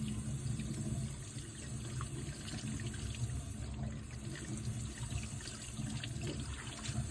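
Steady running water from a tap during handwashing in a nursing lab, splashing continuously at moderate volume with no voices.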